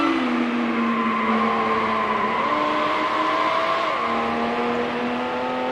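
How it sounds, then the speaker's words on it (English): Race car speeding at around 200 mph in Need for Speed Hot Pursuit 2, a loud sustained engine whine with rising and shifting pitch as it runs flat out down a straight and through a tunnel, no voices. "Massive speed down the front stretch in this car, of course."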